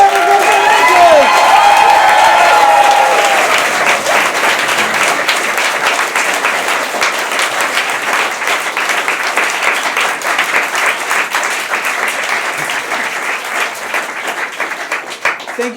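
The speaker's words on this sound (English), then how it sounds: "A big round of applause for Rachel." A live comedy show audience applauds loudly and steadily, the dense clapping lasting many seconds with light cheers, and a voice talks over it at the start.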